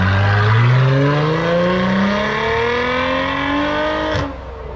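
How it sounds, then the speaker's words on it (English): A Jeep Gladiator pickup's engine revs hard and climbs through its gears with a deep, throaty Corsa Sport exhaust roar, close and loud, then eases off abruptly. "Just gonna do a quick takeoff so you can hear the sound of this Corsa Sport exhaust."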